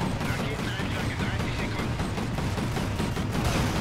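Dense, continuous bursts of rapid gunfire, loud and close, filling the whole clip without pause, like a chaotic firefight in the video game Call of Duty: Ghosts.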